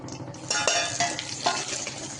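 Red chili powder, salt and turmeric hit hot oil in a pan, giving a steady close sizzle with stirring scrapes and small bursts of crackle throughout.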